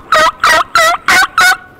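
Wild turkey gobbling and clucking close by during a hunt, five loud separate bursts in a steady rhythm with short gaps between them, and no talk.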